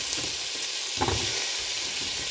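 Potato, drumstick and okra sautéing in hot oil for a Kerala-style theeyal, a steady close sizzle with a few stirring scrapes, one louder stir near the middle.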